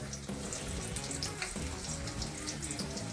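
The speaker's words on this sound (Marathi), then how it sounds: "आपलं तेल गरम झालंय तर आपण थोडा कांदा तळून घेऊया" Onion fries in hot oil on a high flame for chicken biryani, giving a steady, dense sizzle and crackle that stays loud and close throughout, with no talk.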